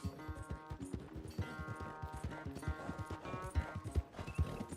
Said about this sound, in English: Mean horse.